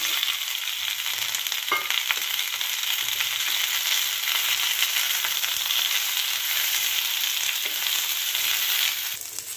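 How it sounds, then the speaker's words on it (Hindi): Cumin seeds, grated ginger and chopped onion frying in hot oil for a creamy onion curry, with a steady, close hiss and crackle lasting throughout and a few faint clicks, no voices. "गरम तेल में डाल दिए 1/4 चम्मच जीरा और थोड़ा सा ग्रेट किया हुआ अदरक और इस प्याज को डाल देंगे"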